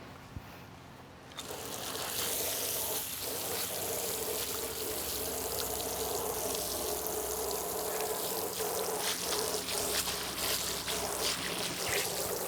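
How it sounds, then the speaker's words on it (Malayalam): Water washes over a dusty old aluminium fabricated door frame, first quiet, then a loud, continuous close rush and splash with scattered drips and knocks that lasts throughout, with no talking. "അപ്പോൾ ഇതൊന്ന് വാഷ് ചെയ്തെടുക്കാം ഫസ്റ്റ്."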